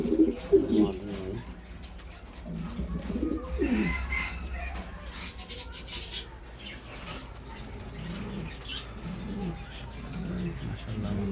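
Pigeons coo in a mixed home collection of birds and pigeons, soft repeated throaty calls near and far, with a few chirps and some background noise throughout.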